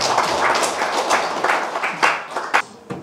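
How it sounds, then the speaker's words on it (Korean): A lecture audience claps to welcome a professor, scattered hand claps forming fairly close applause that thins out toward the end. "교수님을 모시겠습니다. 큰 박수로 맞아주시기 바랍니다."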